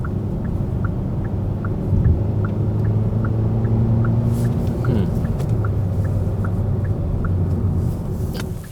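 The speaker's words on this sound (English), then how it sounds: "I'm actually going to give us a little bit of gas and pass up this car." A 2024 Hyundai Sonata SEL 2.5 gives a steady low engine drone and road rumble from inside the cabin, with a rhythmic ticking throughout and the pitch shifting slightly as it accelerates to pass.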